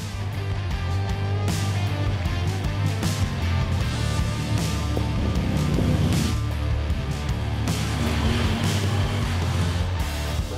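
A Honda Talon 1000R-4 side-by-side with Fox Live Valve suspension drives across a steep hillside in four-low sport mode. A steady low engine drone runs throughout, mixed with rattling, bumping and bursts of wind or terrain noise.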